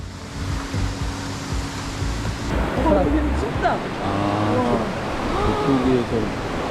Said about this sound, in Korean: 물소리가 아주 시원시원합니다.